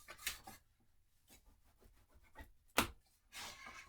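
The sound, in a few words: burnishing paper in a mini album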